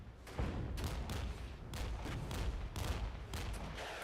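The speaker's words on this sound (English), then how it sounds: "Artillery coming in nicely though." Artillery strike in the Cold War video game Regiments: a barrage of repeated booming blasts and gunfire bursts, several loud impacts in quick uneven succession over a sustained rumble.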